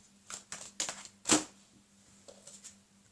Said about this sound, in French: Je prends juste une carte, s'il vous plaît, une dernière carte avec le Gilded